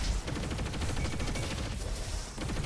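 Rapid sustained gunfire from a Hurricane Rifle in the Roboquest shooter game, a dense stream of loud repeating shots filling the whole stretch with no pauses.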